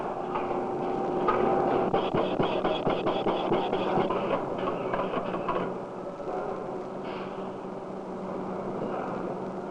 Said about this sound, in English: a single line of 10 Osborne machines run side by side, day after day